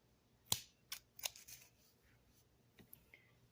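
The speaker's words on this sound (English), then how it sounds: "I'm going to cut right below this node over here" Pruning shears snip through the stem of a leggy tomato plant just below a node, giving a few quiet, sharp clicks and snips spread across a few seconds, with faint rustling in between.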